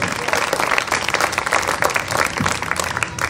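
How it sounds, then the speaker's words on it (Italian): Loud, continuous applause from the crowd at a national literary award ceremony, many hands clapping densely without pause. "quindi credo che un altro applauso gli vada fatto."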